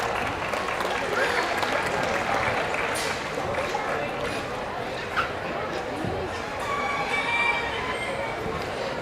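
Fair audience applause for kids at a county fair event center show, a broad, steady wash of clapping that runs the whole time, with a voice and some scattered barks mixed in.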